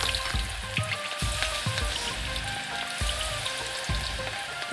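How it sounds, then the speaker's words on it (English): Oil sizzling and crackling steadily as food fries in the cooking game Venba, with soft popping and stirring clicks; no talking. "you get the oil and like the sizzle"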